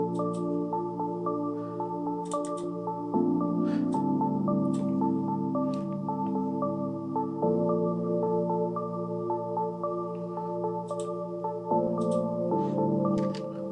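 A Hive synth plugin voice in an Amapiano production, sustained chords with drippy plucked tones and heavy reverb, steady and moderately quiet, with occasional percussion ticks.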